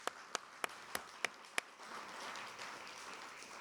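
Sparse applause from an audience at a county commission and Kansas House candidate forum, starting as six separate, evenly spaced claps and then spreading into a soft, steady patter of clapping at moderate distance.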